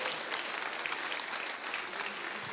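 An audience applauds inside a church during a worship service, a steady dense wash of many hands clapping at moderate volume with no voices over it, lasting a few seconds.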